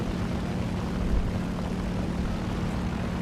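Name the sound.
biplane flying overhead in a naval video game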